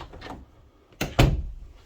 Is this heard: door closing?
yes